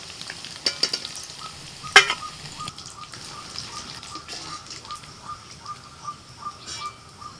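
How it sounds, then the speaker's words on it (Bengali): Soaked, drained soybean chunks fry in hot oil with a steady, soft sizzle, while a spatula makes repeated scraping stirs and an occasional sharp clack against the pan. "সয়াবিনের জলটা ভালো করে ঝরিয়ে নিয়ে ওই তেলের মধ্যে এবার সয়াবিনটা ভেজে নিচ্ছি।"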